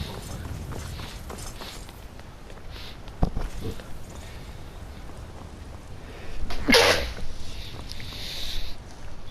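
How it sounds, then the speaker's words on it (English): A single sharp sneeze bursts out nearby over a faint, steady background with a few light thuds. "Why am I sneezing so much?"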